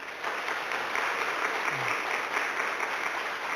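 A church congregation at a 30th-anniversary founding service gives warm applause as people bow in greeting, a steady, moderately distant patter of many hands lasting the whole stretch.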